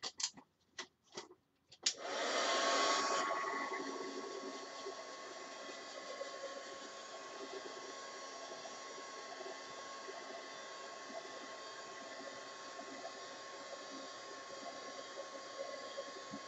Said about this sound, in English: get out my heat gun